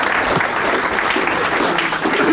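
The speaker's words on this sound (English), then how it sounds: "You can applaud if you want." A live audience breaks into applause at a talk show, a dense steady wash of clapping from the room with a voice briefly audible underneath.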